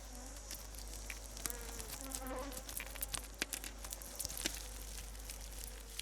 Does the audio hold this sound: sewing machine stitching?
no